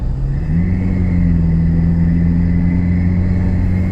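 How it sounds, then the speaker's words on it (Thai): A pickup truck engine fitted with an upgraded turbo revs under a deep throttle push, a loud, steady rumbling drone that rises slightly in pitch, close and alone. "กดคันเร่งลึกที"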